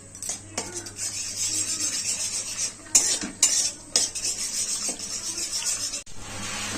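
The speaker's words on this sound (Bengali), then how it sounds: "দুটো ডিম আমি ভুজিয়া করে নিচ্ছি" Two salted eggs being scrambled into bhujia in a pan, a utensil scraping and stirring steadily against the metal under a soft continuous sizzle, with brief pauses in the scraping.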